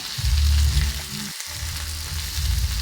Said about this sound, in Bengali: এখানে হলুদ গুঁড়ো আর জিরে গুঁড়ো দিয়ে হালকা করে ভেজে নেব